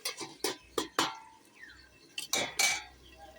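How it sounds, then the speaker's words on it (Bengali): A lid is set onto a cooking pot of cauliflower curry, with several close metallic clinks and clatters in uneven bursts and brief quiet gaps between them. "এখন আবার ঢাকাটা দিয়ে দিই"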